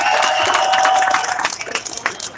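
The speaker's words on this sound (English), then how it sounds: "Give him a big round of applause" Crowd at an outdoor gun rally in Ohio applauding and cheering, a steady loud clatter of many hands that thins out toward the end, with no talk over it.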